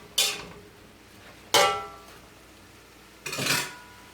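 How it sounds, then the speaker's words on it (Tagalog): A spatula stirs stir-fried vegetables with chicken breast and fish tofu in a pan. It makes three separate scraping clanks, each sharp at first and then fading, spaced about one and a half seconds apart over a quiet background. "So, let's continue stirring the vegetables."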